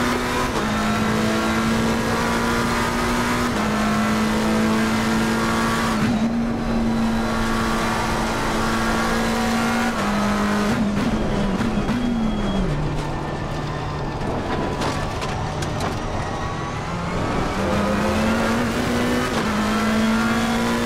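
A race car engine in Assetto Corsa Competizione at Oulton Park drones loudly and steadily as it climbs a hill, its pitch rising and dipping through gear changes, with brief tire scrubs and no voices.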